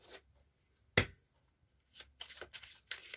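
A deck of oracle cards is shuffled in quiet surroundings: a single sharp snap, a pause, then a series of quick riffling bursts close by.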